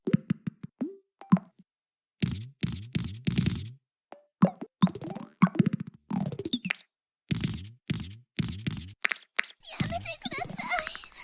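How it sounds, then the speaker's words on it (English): Soft plopping and popping game sound effects from the relaxing road-building game Mini Motorways, a quick series of light pops, chimes and sweeps in bursts with short gaps, clear and close with no talking. "the fantastic and pleasing sound effects that you get both in the menus and in game"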